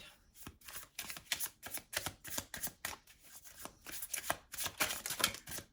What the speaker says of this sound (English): Let me get these little cards out.